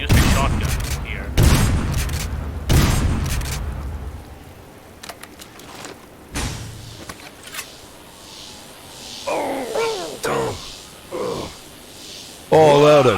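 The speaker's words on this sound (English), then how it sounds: "Why does it flash green when you use the shotgun here?" Shotgun blasts from the PC shooter Duke Nukem 3D Reloaded, a few loud booming shots in the first few seconds, followed by quieter game sounds and short voice bursts.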